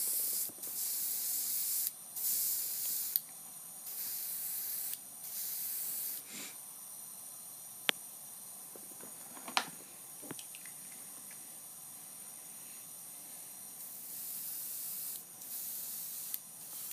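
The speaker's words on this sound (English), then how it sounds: "Airbrush works good." An airbrush sprays paint in repeated short hissing bursts, each lasting a second or two with brief pauses between, close and moderately quiet, with a few soft clicks and taps in the gaps.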